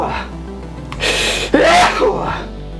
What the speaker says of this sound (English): excuse me while I sneeze like an out of control sneezing thing